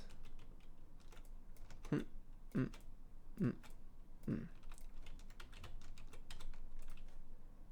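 A computer keyboard is pressed in a few distinct taps, roughly four evenly spaced key strikes, as keys are hit repeatedly to delete, fairly close over a steady low background noise.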